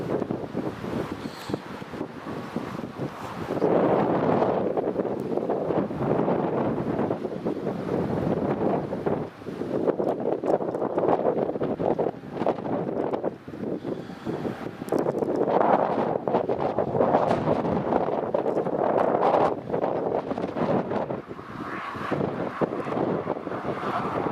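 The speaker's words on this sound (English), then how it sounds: "it's starting to get a little bit chilly with that wind now." Strong, chilly wind buffets the microphone at Newcastle Airport, a loud, continuous roar with gusty surges and rumbling across the whole stretch, and no voices.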